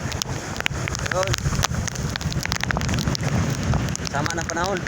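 Strong typhoon wind buffets the microphone with roaring gusts while big waves crash and churn nearby, and someone talks over the storm.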